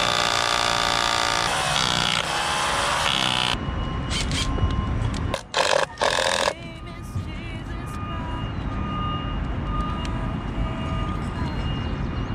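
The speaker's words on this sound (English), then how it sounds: "drill in some holes" Loud, continuous mechanical whine of a power drill boring holes on a carpentry job, running for several seconds, briefly stopping and restarting, followed by lower rumbling background noise.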